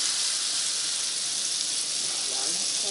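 Butter sizzles in a pan for béchamel sauce, giving off a steady, close, even hiss with no break.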